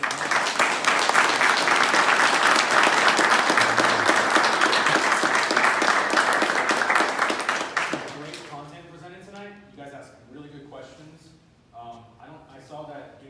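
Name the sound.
audience applause after presentations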